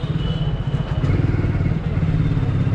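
A motorcycle rides along a road in India, its engine a steady close mid-pitched drone with light rattling throughout, no speech over it.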